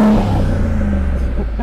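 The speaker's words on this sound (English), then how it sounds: "let's hear this exhaust" Loud, deep engine rumble from a 2013 Mercedes AMG G63 revving through side-pipe exhaust, a low droning exhaust tone, briefly rising then settling, close by.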